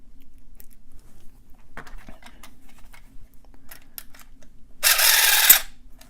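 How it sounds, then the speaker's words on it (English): A lock is picked with a pumpkin carver and tension wrench, giving sparse faint metallic ticks and scrapes in near silence, followed by a louder short burst of rattling hiss near the end. "This person discovered that you can pick locks by using a pumpkin carver. Let's get a tension wrench in there."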